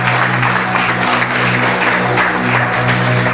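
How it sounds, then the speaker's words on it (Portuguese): A church congregation applauds the Lord in a dense, steady burst of clapping, loud and close, with a low hum underneath. "Você pode aplaudir ao Senhor por isso?"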